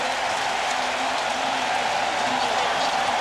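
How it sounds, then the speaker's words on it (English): Stadium crowd noise at a 1994 NFL football game, Raiders at Patriots, a steady broad roar of many voices filling the air throughout without pause, with a commentator talking faintly underneath. "that gets the crowd going"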